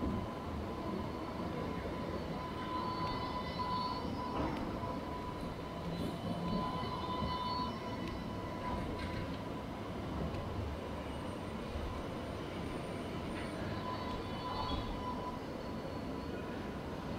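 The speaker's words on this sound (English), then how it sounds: "Sydney trams coming towards me." Trams rolling toward the listener along George Street in Sydney, a steady broadband rumble of wheels on rail with a faint ringing tone and occasional squeals, continuous street noise throughout and no talk.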